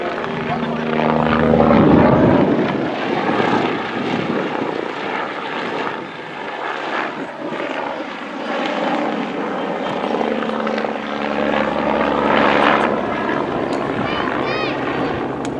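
A rigid-rotor helicopter flown by the Flying Bulls displays at an air show at Cosford, its steady, loud rotor and engine drone sustained throughout, with a commentator's voice running over it.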